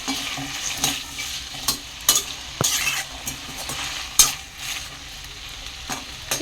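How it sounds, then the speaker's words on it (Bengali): Potatoes fry in a pan with a steady sizzle, broken by repeated scraping and clinking as a utensil stirs them, close up in a home kitchen. "এখানে দিয়ে দিয়েছি আলু ভাজা"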